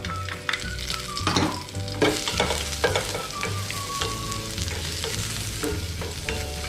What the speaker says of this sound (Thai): นำกระเทียมกับหอมแดงนะครับ มาคั่วเลยครับ